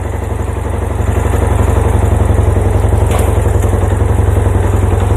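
A repaired Yamaha Tri-Moto three-wheeler idles loud and close. Its small engine keeps a steady, rapid, even putter with a faint clattery top end and no stumbles.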